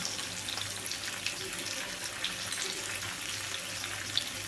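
Medium-sized tomato pieces with salt fry in a pan, giving a steady, even hiss of sizzling that holds at a moderate level throughout.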